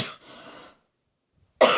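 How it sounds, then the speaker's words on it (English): A person coughs twice, close and fairly loud, with a harsh burst, a short breathy tail, a gap of silence, then a second sharp cough. "I only just started coughing again last night."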